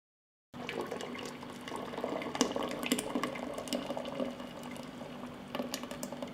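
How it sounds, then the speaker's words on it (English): Ground boiled plums being poured back into their cooking water, a soft continuous splashing and trickling of thick liquid with scattered plops, quiet and close, with no voices. "I return the ground plums to the water in which they were boiled."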